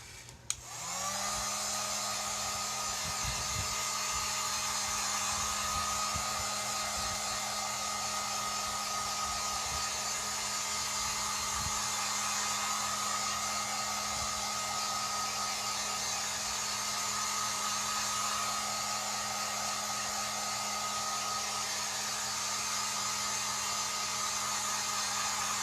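A hair dryer blowing steadily on a pumpkin home decor craft, a loud continuous whirring roar that starts abruptly and holds constant, with a few faint handling bumps early on.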